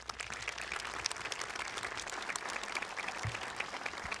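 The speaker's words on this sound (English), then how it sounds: "a warm round of applause" Warm applause from a large outdoor crowd at an Australia Day citizenship and flag raising ceremony, honoring the flag bearers and a children's choir; dense steady clapping throughout, fairly distant.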